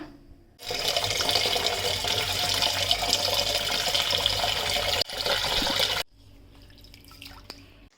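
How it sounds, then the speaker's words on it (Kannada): Running tap water splashes steadily into a bowl of soaked lentils as they are washed, then cuts off, leaving faint drips and small movements. "ಇದನ್ನು ಎರಡು ಬಾರಿ ವಾಶ್ ಮಾಡ್ಕೊಬಿಟ್ಟು ನೀರು ಹಾಕಿ ನೆನೆ ಹಾಕಿಬಿಡೋಣ"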